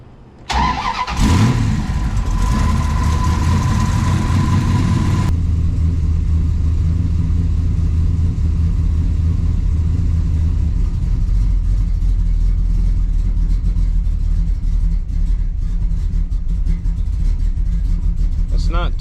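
A Dodge Dakota engine running rich after a 450 lph fuel pump upgrade starts up with a short crank and then settles into a loud, steady, even idle that continues throughout.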